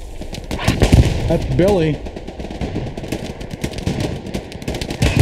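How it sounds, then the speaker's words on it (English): Flak guns pound out artillery fire in a Hell Let Loose battle on frozen fields, giving rapid thumping bursts and distant booms, while someone speaks briefly and a tonal whistle sweeps through. "the artillery fire coming his way from those pack guns"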